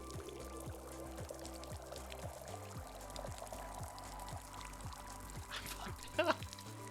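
Water poured in a cozy tea shop game, a soft steady trickle and splash beneath gentle rhythmic music, faint and continuous, ending with a small bright clink.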